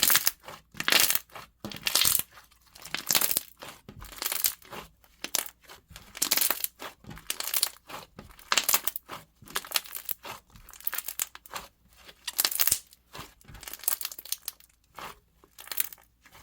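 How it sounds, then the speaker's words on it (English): Sticky, wet pops and crackles burst out in irregular clusters, loud and close, as thick slime mixed with hand sanitizer is squeezed and its bubbles snap. "the bubble pops are really loud, very satisfying"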